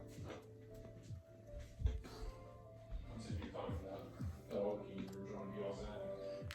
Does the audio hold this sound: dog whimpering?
yes